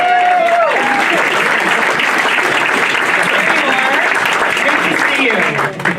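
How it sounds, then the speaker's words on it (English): Loud, sustained applause and cheering from a town hall audience for a band, filling the whole span at a steady level while a voice speaks over the crowd. "How about a round of applause"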